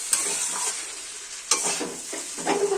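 Food frying in a pan is mixed with a utensil, giving sharp scraping strokes at irregular intervals over a low, steady sizzle, close up and with no talking.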